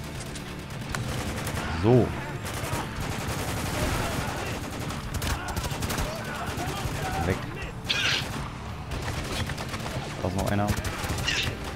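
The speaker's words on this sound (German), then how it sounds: "Ich kann nicht weiter, zu viel Beschuss, verdammt!" Dense gunfire in the shooter game Spec Ops: The Line, with steady volleys and scattered single shots throughout and a few louder blasts, while someone speaks briefly over it.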